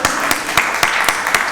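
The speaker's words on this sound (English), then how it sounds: "Give another round of applause." Applause at a county board of commissioners meeting, heard as a broad wash of clapping from a small crowd with several louder claps standing out at a steady, loose rhythm and no voices on top.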